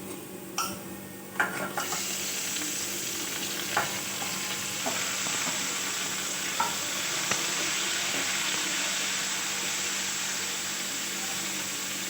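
Tomatoes are tipped into a pan of frying mushrooms and potatoes for a vegetarian curry. A steady, soft sizzle runs throughout, with a cluster of utensil scrapes and clicks near the start and occasional taps after, with no talk.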